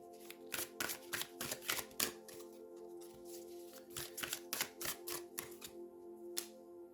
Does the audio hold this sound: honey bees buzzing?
no